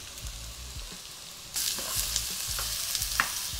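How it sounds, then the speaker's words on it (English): Minced ginger, garlic and carrots sauté in a pan, a soft sizzle that jumps louder as the carrots go in, with a spoon scraping and stirring at intervals. "You're gonna saute this for about 30 seconds."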